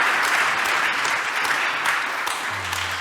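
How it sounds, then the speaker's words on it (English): Sustained applause from a conference audience for a plenary panel on rural water finance, a dense steady wash of many hands clapping at even loudness throughout, with a faint low hum entering near the end. "if we could give a big round of applause to our panelists"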